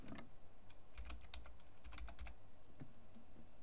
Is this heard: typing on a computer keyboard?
yes